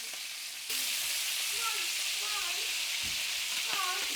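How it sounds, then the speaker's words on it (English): Steady broadband sizzle of beef frying in a hot pan, continuous and close, with faint clinks and scraping of utensils now and then. "and then finish frying the rest."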